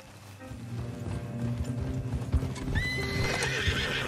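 Horse hooves clip-clop in a quickening rhythm in Red Dead Redemption 2, joined by a whinny, with a low musical backdrop swelling underneath.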